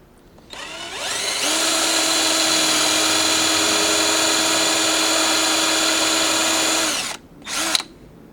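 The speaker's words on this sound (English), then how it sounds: "And now I'll screw the next screw in." A power drill driving a screw while building a wooden leatherworker's stitching pony, its motor winding up and holding a loud, steady whine for several seconds before stopping, then a short second burst.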